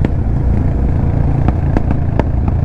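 Continental GT 650 motorcycle fitted with an AEW aftermarket exhaust, engine held at steady revs with a dense, loud rumble punctuated by several sharp crackles and pops from the pipe.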